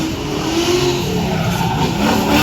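Drift car at a Hot Wheels drifting show, tyres skidding and smoking, loud continuous tyre squeal over a revving engine, close and sustained.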